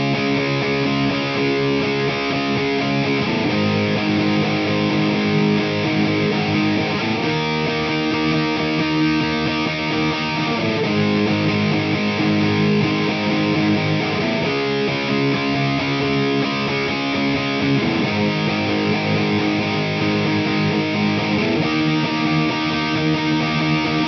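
Distorted electric guitar slowly playing a song's chorus, thick sustained power chords changing in a steady pattern, loud and alone without talk.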